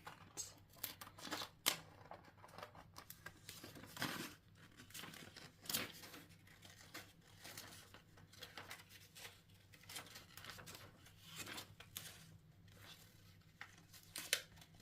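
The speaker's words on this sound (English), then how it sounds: "I'm going to cut out my seahorse here because I really like it" Scissors cut out a paper seahorse for a handmade journal cover, giving quiet, irregular snips and crinkles of paper with soft rustles between them, close by and with no talk.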